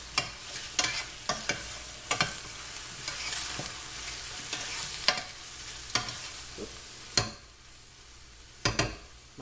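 Shrimp lo mein tossed and fried in a hot pan, a steady sizzle broken by repeated sharp scraping stirs at irregular intervals, close and fairly loud with no talking.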